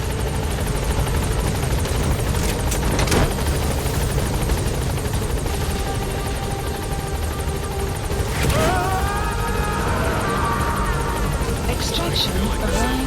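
Military helicopter in Metal Gear Solid V: The Phantom Pain, a steady loud rotor drone lasting throughout, with game effects layered over it.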